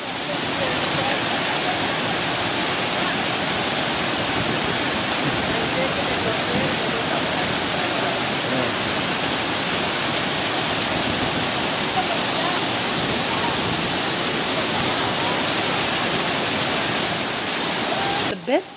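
Thiruparappu waterfall in Kanyakumari with its river flowing through dense forest, a steady, loud, unbroken roar of falling water that fills the whole stretch.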